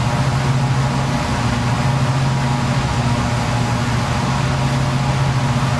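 Steady drone of Jetstream 41 turboprop engines as cruising power is reduced on a flight toward Boise, a continuous cabin roar with low humming tones that shift slightly in pitch, loud and constant with no talking.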